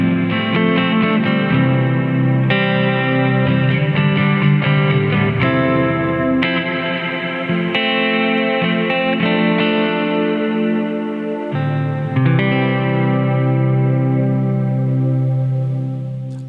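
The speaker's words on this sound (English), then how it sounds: "mod is just the plate reverb that we just heard, but with a little bit of modulation added into the mix." Electric guitar played through an MXR M300 reverb pedal in mod mode, plate reverb with modulation and decay set high: sustained chords and melodic lines shimmer and waver with long swirling tails, close and loud, no voices.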